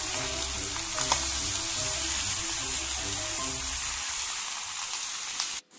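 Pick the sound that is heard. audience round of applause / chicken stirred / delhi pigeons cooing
chicken stirred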